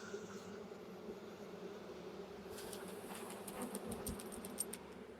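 Honeybees from a swarm being hived buzzing steadily in a close, continuous drone, with light clicks and rustles of hive equipment entering partway through.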